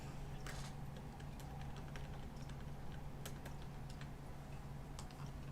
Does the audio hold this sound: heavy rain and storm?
no